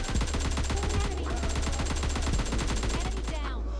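Rapid automatic gunfire from the mobile shooter PUBG Mobile Lite, with AKM and M416 rifles in play, rattles loud and close in a fast, unbroken stream of shots lasting nearly four seconds.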